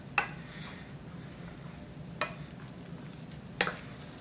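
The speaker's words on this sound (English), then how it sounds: "You're incorporating your egg into the dough over and over again until it's all incorporated" Churro dough being mixed with egg in a bowl, with three sharp clinks of a utensil against the bowl spaced about a second and a half apart over a soft, quiet background.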